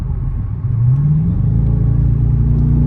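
A Dodge Charger R/T engine rumbles loudly and close, its pitch climbing as it revs up, then holding a steady, throaty drone.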